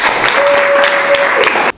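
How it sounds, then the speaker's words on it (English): Loud, close applause from a small group in a chiropractic school setting, continuous clapping lasting under two seconds with a faint whistle-like tone inside, then cutting off sharply. "So clap it up for Stephen Gage"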